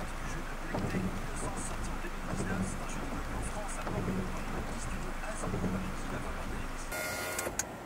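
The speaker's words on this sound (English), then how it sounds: "Still raining, but it seems to be raining slightly less right now." Rain falls steadily on a car on a drive past trees and mountains, a dense constant patter heard from inside with a muffled voice beneath it and a brief whirring near the end.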